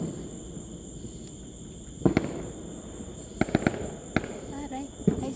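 Distant Fourth of July fireworks pop in a scattered cluster of sharp cracks over a steady insect chirr outdoors at night, faint and far-off, with a few bursts in quick succession.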